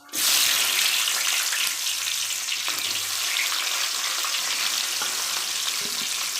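Onions going into hot oil for Tamil ennai kathirikai kulambu (brinjal curry) fry with a loud, steady, close sizzle that holds evenly throughout, with a faint clink of stirring partway through and no talking.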